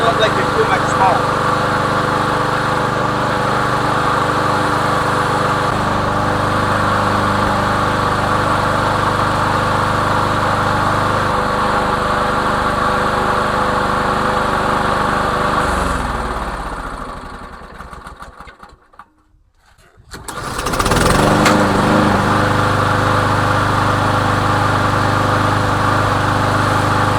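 A Yardworks lawn mower engine runs steadily with a buzzing drone, then dies away to near silence before restarting and running strong again, loud and close.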